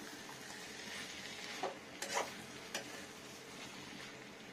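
A rohu fish head frying in oil gives a faint, steady sizzle with a few soft clinks of a utensil against the pan near the middle, quiet and without speech.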